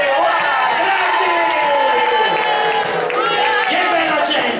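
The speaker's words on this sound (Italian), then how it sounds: "Un applauso alla regina che è stata capace di organizzare e il re, grande!" A carnival crowd in Novara cheers and applauds for the carnival queen and king, a loud, sustained wash of clapping and shouting with music or singing voices running through it.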